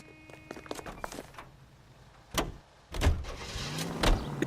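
In L.A. Noire, detectives climb into a car and drive off: soft clicks and a car door thud, then an engine turns over and idles, with a brief bump near the end.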